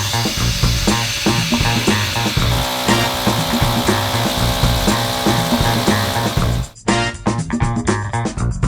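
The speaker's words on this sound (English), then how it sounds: "Just a matter of putting this drill attachment on, turning the vacuum on, sliding it up" A Metabo long-neck power tool with a vacuum attachment runs loudly and continuously against a wall, grinding steadily with a droning motor, briefly cutting out near the end before starting again.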